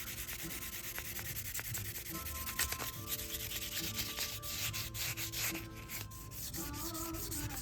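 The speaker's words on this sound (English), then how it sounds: "Then we can take the sandpaper and very lightly and flat do the flat areas." Sandpaper is rubbed lightly and flat across the flat areas of the dash trim of a 1955 Chevy, a continuous, close scratchy rubbing with steady strokes that carries on for the whole stretch with no talking.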